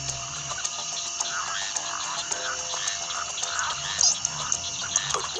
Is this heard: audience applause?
no